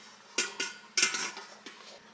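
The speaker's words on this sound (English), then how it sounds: "a cooking dome that I have, and I'm going to put over that" A small metal cooking dome set down over a pan of leftover potatoes and cheese gives a few near clanks and rattles, two sharper knocks followed by lighter metallic taps.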